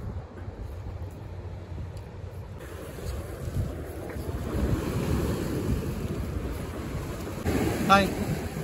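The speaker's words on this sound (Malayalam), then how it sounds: "ഇന്നത്തെ കടലെന്ന് വെച്ച് കഴിഞ്ഞാൽ കുറച്ച് നല്ല തെരയും കാറ്റുണ്ട്" Sea waves surge and break off the Kerala coast during a king fish trip, with steady wind buffeting the microphone throughout and the wash growing louder toward the end.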